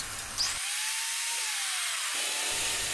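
A small electric drill spins up and bores pilot holes in sheet metal for a stove steadily for about two seconds, pitch dipping slightly under load, then winds down amid workshop noise.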